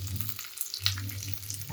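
Roughly chopped onion and a medium tomato hit hot oil in a pan for a jowar dosa chutney, giving a steady close sizzle with small crackles and a brief stir.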